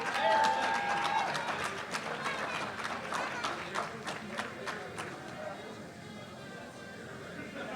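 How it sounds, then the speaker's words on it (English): An audience at a powerlifting nationals meet applauds the athletes, with irregular claps that are strongest early and slowly thin out, accompanied by a voice and general crowd murmur. "let's give all of our athletes one more round of applause,"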